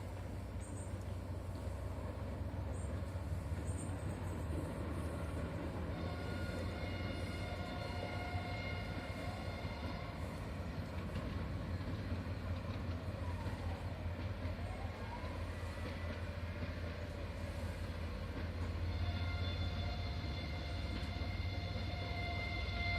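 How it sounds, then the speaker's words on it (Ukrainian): A train rolls past near Yaremche in the Carpathian hills, a steady low rumble of wheels and wagons lasting throughout, with faint higher squeals drifting over a broad continuous roar and no voices. "Потяг їде. У напрямку Яремчого."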